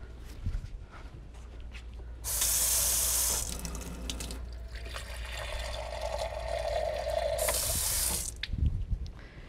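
Water runs from a kitchen tap in two bursts, a loud gush for a couple of seconds, a softer flow into the sink, then another brief surge, with faint footsteps and handling around it.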